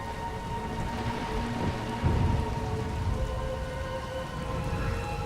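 Steady heavy rain pours in the game Star Wars: The Old Republic, with low rolling thunder rumbling underneath and a stronger thunder swell near the middle, continuous and enveloping with no talking.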